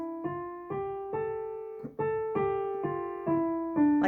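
Piano played with one finger dragging, a slow run of single notes and small chords struck one after another, each ringing briefly before the next, soft and close with no voices.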